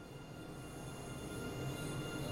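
A passenger train runs along the rails in the Train Sim World 2 simulation game, giving a steady, dense rumble of wheels and track noise with faint high squealing tones throughout, loud and continuous with no voices.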